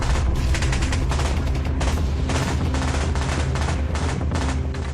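Sustained heavy gunfire and mortar fire during the Kargil war, a dense, loud, continuous barrage of overlapping shots and booms with no pauses.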